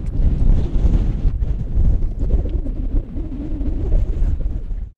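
Strong wind buffeting a mountain summit at night, a loud continuous low roar with gusty swells that cuts off abruptly at the end.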